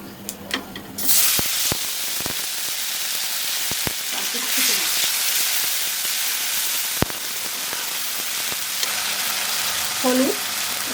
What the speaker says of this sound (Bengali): এই তেলে দিয়ে দেবো একটা তেজপাতা, আর একটু তেল দেবো, এই বাটা মশলাটা দিয়ে দেবো